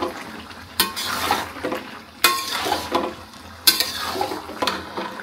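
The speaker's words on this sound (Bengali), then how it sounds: "আমি এখন তরকারিগুলো কষায় নিচ্ছি" A spoon scrapes and stirs a pan of mixed vegetable curry made with eleven vegetables, landing four distinct strokes over a steady sizzle of frying.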